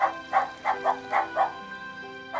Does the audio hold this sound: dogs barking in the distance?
yes